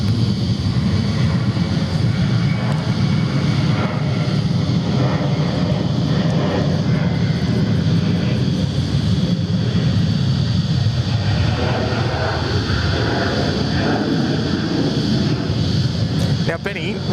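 Qantas airliner departing Sydney Airport on a flight to Noumea, a steady broadband jet roar sustained throughout with people talking over it.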